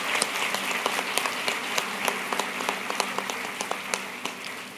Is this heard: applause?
yes